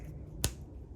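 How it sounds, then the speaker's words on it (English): A single sharp finger snap, crisp and close, over a quiet low room rumble. "When I snap my fingers,"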